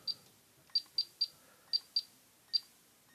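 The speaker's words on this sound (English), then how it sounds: "It's got a nice little beeper for both receivers." Short electronic beeps from the dual receivers of a DIY diversity module on Fatshark Dominator V2 FPV goggles as channels are stepped, seven crisp tones at uneven intervals, clear and close with no talking.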